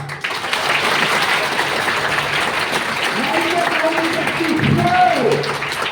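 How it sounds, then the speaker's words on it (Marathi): A group of schoolchildren claps loudly in a classroom, a dense and continuous burst of applause that holds steady throughout, with voices rising over it toward the end. "बुद्धिमान माणसं जोरात टाळ्या वाजवतात"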